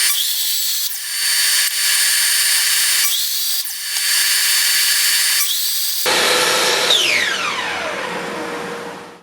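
A power saw cuts a slit partway into wood strips in a workshop, loud and steady in long passes with brief dips between them, ending with the blade winding down.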